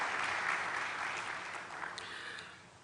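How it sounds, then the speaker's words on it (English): Graduates at a university graduation ceremony applaud the guests they invited, a steady broadband clapping from a large seated crowd that holds for the whole stretch and fades slightly toward the end. "would you please give a round of applause to the people you have invited to attend"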